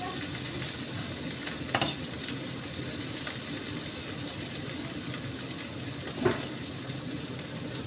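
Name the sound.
okra with egg frying in a pan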